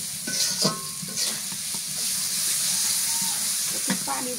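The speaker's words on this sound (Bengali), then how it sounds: "মশলাটা ভালো করে কষান করে নিই" Spice paste, including dry chilli powder, is stirred and sautéed in a pan for a goat meat curry, giving a steady sizzling hiss broken by scraping stirring strokes, with a voice briefly in the background.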